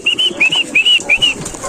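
Racing pigeon flapping its wings as it drops from a roof to land, with quick bursts of wingbeats and a few bright whistling tones from the wings, close by and fairly loud.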